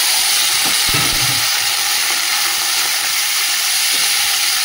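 Chopped carrot, beans and spring onion fry with garlic in hot oil, giving a loud, continuous sizzle and hiss close to the pan, with a few faint clinks underneath.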